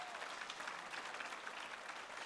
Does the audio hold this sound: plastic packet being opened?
no